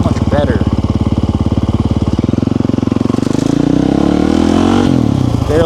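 A supermoto motorcycle with upgraded brakes, its engine note dropping as it brakes hard for a stoppy and the fork squats, loud and close throughout, with a voice talking over it.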